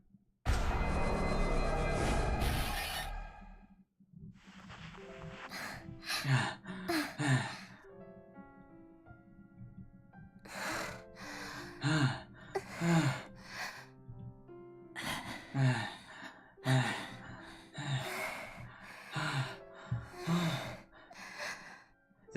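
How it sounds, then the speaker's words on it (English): Heavy, rhythmic panting and gasping breaths in the visual novel game Chaos;Child repeat over a quiet musical background, loud and close, after a brief burst of noise at the start. "The only sound in the dark room was their panting"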